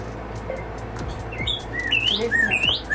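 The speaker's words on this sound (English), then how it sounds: "We're gonna keep listening to bird sounds while you listen." Several bright chirping bird calls rise and fall in quick succession over a low background hum, growing busier toward the end.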